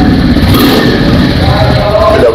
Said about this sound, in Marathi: एकदा चालू करून दाखवा सर, आवाज बघूया कसा आहे गाडीचा